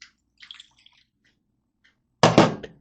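Lemon juice is poured into a small bowl in a kitchen, a brief close splash lasting about half a second after near silence.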